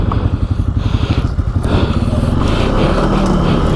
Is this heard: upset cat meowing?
no